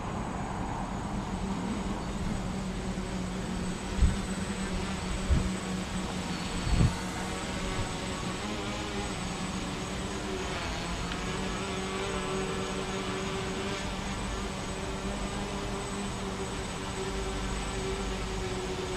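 An ArduCopter drone on a HobbyKing Predator 650 frame hovers with a steady, continuous motor and propeller whir, moderately loud, with a few faint knocks early on.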